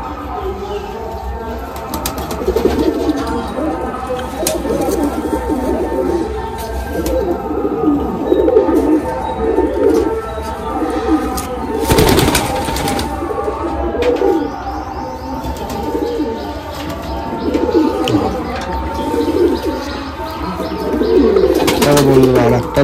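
Madrasi pigeons coo in a steady, overlapping low warble close by, with occasional chirps and a brief rustle of wings, while people talk intermittently over the flock.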